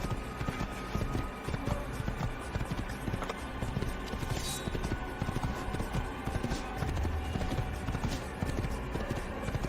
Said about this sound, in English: Andando de cavalo no assassino de level 1.